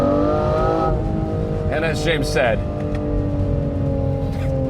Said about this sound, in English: I have yet to tire of the sound of that V12.